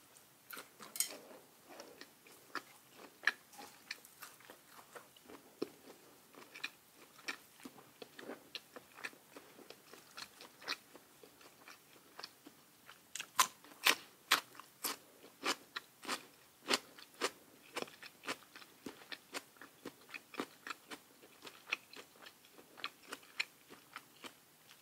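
Grilled pork balls are chewed close to the microphone with a spicy dipping sauce and fresh vegetables. The sound is a long run of quiet, rhythmic bites and crunchy clicks with faint wet mastication between them. There is no talking.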